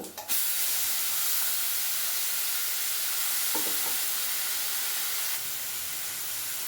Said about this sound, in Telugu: మసాలా ఇదిపోయింది టమాటా వేస్తున్నాను టమాటా పేస్ట్